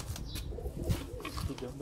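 A Kamagar pigeon, a Sialkoti flying breed, gives low soft coos in a short close burst while people talk faintly nearby.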